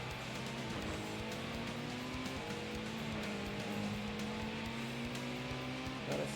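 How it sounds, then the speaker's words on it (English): Race cars in the 1997 PlayStation game Gran Turismo drone steadily with overlapping engine whines rising and falling, a rival car running close behind, with faint tire noise throughout at a moderate, even level. "I can hear that other car rolling right behind me."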